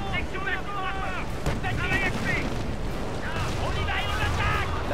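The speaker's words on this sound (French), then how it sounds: "La base subit les tirs ennemis." Enemy fire pounds a base in the World War II strategy game Company of Heroes: Tales of Valor, Falaise Pocket mission, with a dense, continuous wash of rumbling blasts and crackling gunfire under steady talk.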